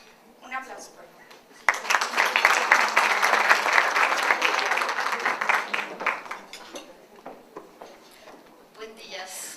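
Audience applause at a skin microbiome conference, a burst of steady clapping from a large crowd that starts abruptly, holds for several seconds, then thins out into scattered claps.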